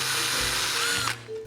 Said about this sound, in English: Starting from the corner of the panel with the first guide, I drilled a 2mm hole and then opened it up to